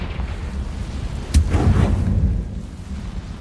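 A single fiery spell blast in Hogwarts Legacy, a sharp crack followed by a short rumbling burst that fades within about a second, alone over low background ambience.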